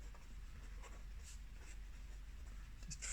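Pencil or pen sketching small rough leaf shapes on paper for a watercolour Christmas tree, faint close scratchy strokes in short repeated bursts over a quiet hum.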